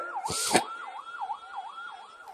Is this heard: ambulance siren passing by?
yes